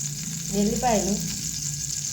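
Garlic fries in a pan with a steady, even hiss, while a brief voice murmurs partway through.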